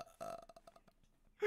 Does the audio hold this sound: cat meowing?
no